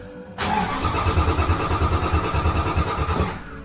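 An Austin Healey engine cranking on a newly fitted starter motor, a strong, steady rhythmic churn of starter pulses that runs loud and close for about three seconds without catching, with no talking.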